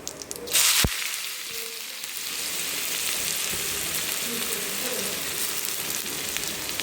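Onion dropped into hot oil with crackling cumin seeds for a potato-brinjal curry, bursting into a loud, steady, close sizzle after a brief clatter, continuing evenly with no talk.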